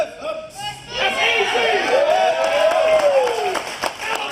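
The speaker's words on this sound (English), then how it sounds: "the crowd goes wild" A crowd cheers and claps at a bench press attempt, rising clapping and chatter swelling after a short pause, with a voice carrying over the noise.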